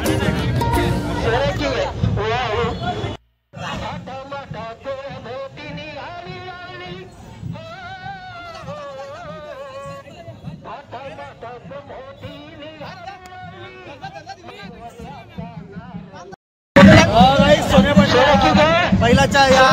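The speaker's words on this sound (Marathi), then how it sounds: "ते दर्शन घेण्याची ही गर्दी आपण पाहतोय।" A dense hubbub of many voices fills a crowd gathered around a decorated bull at a Narali Purnima festival rally, with steady babble and chatter throughout, briefly dropping out twice.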